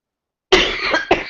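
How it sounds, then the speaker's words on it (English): Two dry coughs from a dry throat close together, loud and near, the second following after a brief pause. "Excuse me again for coughing."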